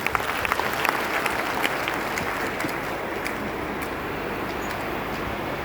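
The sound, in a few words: audience applauding at meeting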